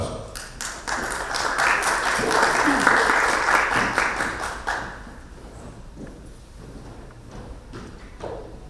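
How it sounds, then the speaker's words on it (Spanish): Conference audience at an international mastology congress applauds a radiologist being introduced, a swelling patter of clapping that peaks and then thins to scattered claps and taps by the end. "Un aplauso"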